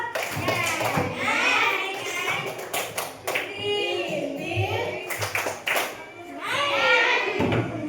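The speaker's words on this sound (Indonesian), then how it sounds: "Sebelum itu kita tepuk motor dulu" Children perform the tepuk motor clapping chant in a classroom, voices chanting together over rhythmic bursts of hand claps and taps, fairly close and lively.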